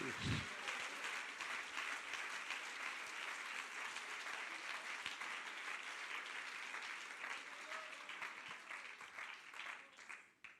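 A church congregation claps at length for Jesus, dense applause filling the room and then tapering off near the end.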